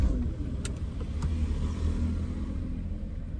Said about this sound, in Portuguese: Vou ligar o carro aqui.